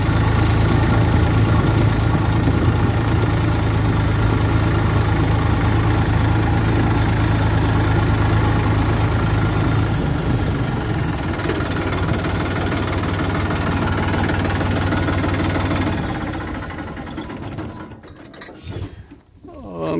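A Massey Ferguson 241 DI tractor diesel engine idles close by with a steady low rumble and rattly knock for most of the stretch, then drops and fades irregularly near the end.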